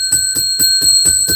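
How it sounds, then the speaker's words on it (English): Small bell struck in a steady rhythm, about six bright rings in under a second and a half. Each strike is close and loud, and the sustained metallic tone carries between strikes. "Oh, I got to ring the bell."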